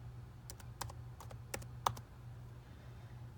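Rapid, uneven keystrokes on a Chromebook keyboard, with several sharper clicks among lighter taps, over a steady low hum.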